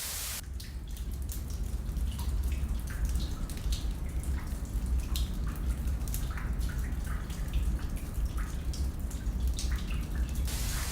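Underground waterfall inside a limestone cave, a continuous dense rushing and splashing wash of water with scattered drips, steady and fairly close, no talking.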